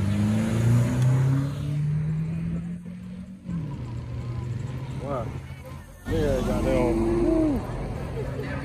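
A turbocharged car revs hard at a car meet, a loud rising engine tone that drops away, then returns with a roaring burst and a series of quick rev sweeps, with voices and crowd noise around it.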